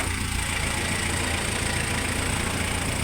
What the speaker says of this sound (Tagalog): Makina po ng Montero.